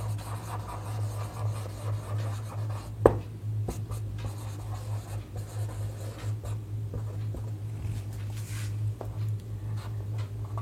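Pen or pencil scratching steadily across paper at close range during a class 11 set theory lesson, quiet and continuous over a low steady hum, with one sharp tap near the start.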